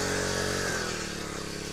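Small Baliraja weeder machine engine, used for inter-row weeding, running close and loud, its buzzing pitch easing down over under two seconds as the revving settles.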